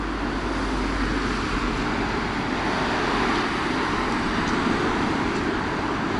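Highway traffic on the edge of Kutaisi, Georgia, near a car disassembly yard: a continuous low roar of passing vehicles, steady and moderately loud, with no distinct individual passes standing out.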